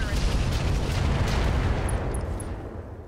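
Mech weapons fire in the RogueTech mod of BattleTech, a heavy rumbling barrage of booms that runs continuously and then thins out, with a few faint high chirps near the end.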